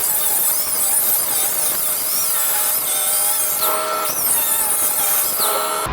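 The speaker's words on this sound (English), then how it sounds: "let's get this hanger cut off, re-welded on, and all the shackles and stuff fixed up" A power tool cuts off a spring hanger on a Southland dump trailer, giving a loud, continuous, high-pitched metallic squeal close by for the whole stretch, wavering slightly in pitch.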